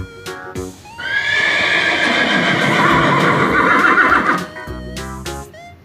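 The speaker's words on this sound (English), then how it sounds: "HORSE horse." A horse gives one long, loud neigh lasting several seconds, set between stretches of background music.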